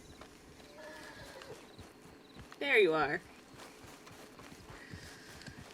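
A horse in the Red Dead Redemption 2 video game gives a loud, close whinny lasting about half a second midway through, over a background of soft hoofsteps and ambient game sound, with someone speaking briefly.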